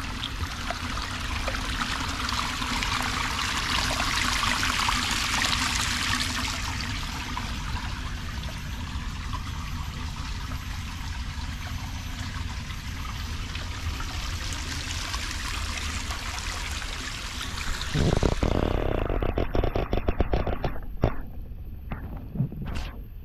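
Water trickles and flows steadily in a garden stream at Singapore's National Orchid Garden, a continuous splashing wash that briefly swells louder near the end, with no talk.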